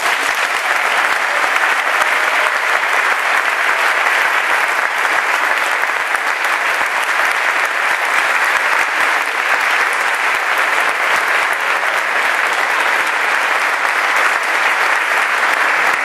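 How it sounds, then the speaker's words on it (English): A large audience at an empowerment summit keeps up sustained, even applause for over sixteen seconds, a thick, unbroken roar of many hands clapping at steady loudness with no voices standing out. "Let's give him a round of applause."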